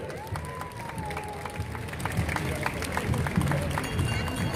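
A crowd applauding and cheering outdoors at the Cannstatter Volksfest procession in Stuttgart, Germany, steady clapping with scattered shouts and voices mixed in, some whistling audible early on.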